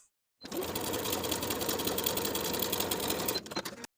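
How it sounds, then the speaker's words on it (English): A sewing machine runs steadily for about three seconds, understitching the seam allowance of linen shorts, a close, even mechanical whir that ends with a few slower stitches. "Understitch this seam by sewing the seam allowance to the pocket with about 1/8 inch seam allowance straight across."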